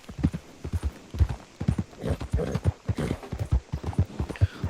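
Steady clip-clopping of horse hooves in a video game, in a quick, even gallop rhythm, fairly close, with no talking.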